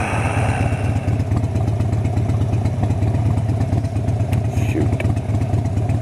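A motorcycle idles in morning traffic with its low engine throb pulsing steadily and close, as the rider waits, unable to lane split, with faint clatter and no clear speech.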